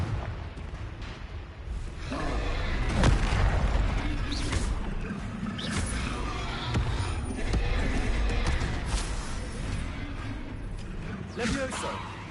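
Confringo fire spell exploding in the Hogwarts Legacy video game, a dense burst of blast and crackling effects within a busy, continuous stretch of loud combat sound.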